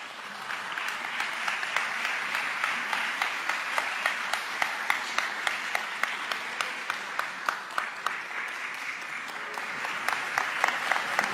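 An audience applauds at an award ceremony for a decoration presentation, with steady, moderately loud clapping from a hall that carries on for over ten seconds and swells slightly toward the end.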